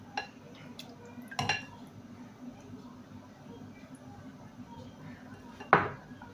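Karnıyarık filling with tomato paste stirred in a pan, heard as a few distinct spoon clanks and scrapes against the metal, separated by quieter stretches of faint cooking noise.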